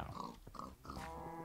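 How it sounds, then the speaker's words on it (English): A pig in Minecraft (FTB Continuum modpack) gives a few short, faint grunting oinks close by, followed by a brief steady tone. "Get out of here, pig. This is my block."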